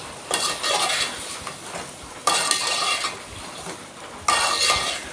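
A spoon stirs chicken curry with salt, turmeric, ginger-garlic paste and spices in a metal pot, producing three scraping, clinking stirring strokes over a soft sizzle, close and without voices.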